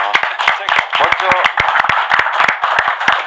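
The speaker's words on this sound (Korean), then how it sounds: "박수 한번 쳐주세요" A room of attendees at a Gyeonggi provincial policy meeting claps in a dense, sharp rattle of close hand claps, while a voice speaks over it.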